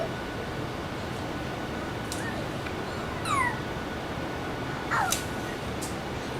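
A house cat gives a few short, faint meows at scattered moments over a steady hiss of room noise.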